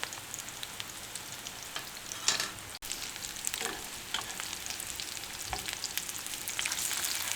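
Meatballs fry in a pan with a steady crackling sizzle, broken by occasional pops and a brief clatter of turning.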